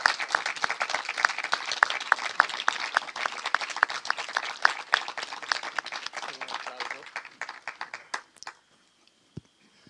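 An evening audience applauds a harpist after her performance, with crisp, closely spaced claps that are loud at first, then thin out into scattered claps and stop, leaving near silence with a last isolated clap.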